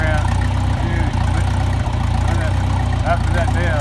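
A farm tractor engine chugs steadily at a low idle close by, a heavy rhythmic rumble running throughout, while someone talks over it.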